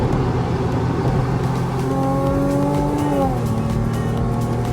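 Supercharged Lexus IS 350 accelerating under power, its engine tone rising steadily and then dropping as the transmission shifts up, with constant road and cabin noise throughout.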